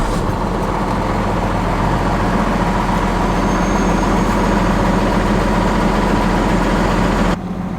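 A box truck's engine idles with a loud, steady low diesel rumble close by, continuing unchanged until it cuts off abruptly at the very end.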